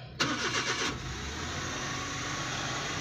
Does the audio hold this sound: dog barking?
no